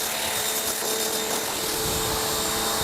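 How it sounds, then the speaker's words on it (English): A pressure-washer hose rinsing a car, giving a steady loud hiss and spray roar that stays constant throughout with no break. "I'm gonna go ahead and rinse off the rest"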